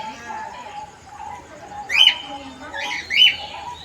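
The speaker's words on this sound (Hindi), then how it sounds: "ये देखिए पक्षियाँ हैं," Birds at the Sarnath zoo in Varanasi give a couple of short, bright chirps, each standing out briefly over a low, steady background hum, with faint cooing suggested but no clear voices.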